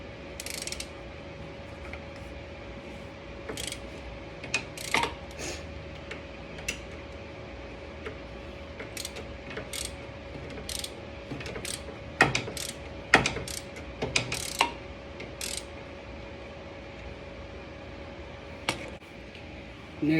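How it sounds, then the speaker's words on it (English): Ratchet clicking in short irregular bursts while loosening the outer tie rod from the inner tie rod on a BMW E92, steady background hum underneath, no talk. "we're going to unloosen our tie rod from our inner tie rod"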